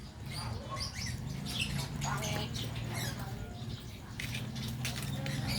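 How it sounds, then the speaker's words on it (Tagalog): Short, high chirps and tweets scattered over a steady low rumble, with a voice talking intermittently in the background. "Yan yung mga ibon."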